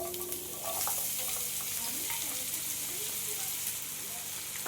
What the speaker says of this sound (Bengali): এই পেঁয়াজটা দিয়ে আমি ভালো করে ভেজে নেব